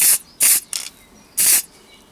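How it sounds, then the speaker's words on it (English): Red acrylic paint sprayed from an aerosol can: three short, loud hissing bursts, with a fainter brief spurt between them and quiet gaps in between. "I give it a spray of red paint."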